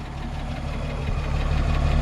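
A 1953 Chevrolet 210 sedan's six-cylinder engine idles close by in an even, low rumble through a quiet exhaust, steady and unbroken with no talking.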